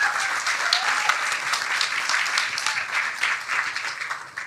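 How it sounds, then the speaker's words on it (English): Steady audience applause at an academic honours symposium, dense and sustained clapping throughout with no break, moderately loud and fairly close. "But a round of applause, please."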